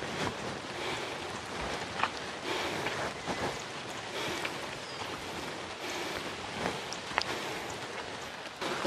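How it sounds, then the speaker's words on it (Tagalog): Heavy rain falls steadily, a dense hiss that spreads across the whole stretch, with occasional louder drops and faint outdoor movement mixed in. "lumakas na yung ulan"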